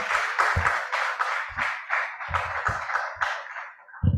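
An audience at a software engineering conference plenary session applauds a third-prize-winning team, with fairly loud, choppy clapping that surges and thins in uneven bursts before fading near the end.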